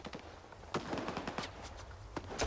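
Gunfire from a weapon in the video game Stalker 2: a quick run of sharp, fairly quiet shots in an uneven burst over a few seconds, with soft steps between them.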